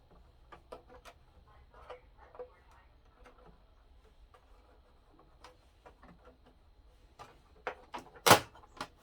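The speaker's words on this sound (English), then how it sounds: "So just close the door." The door of an HP OfficeJet Pro X476dw/X576dw printer with an ink system being fitted shuts with one firm, close clunk near the end, after quiet scattered clicks and handling noises.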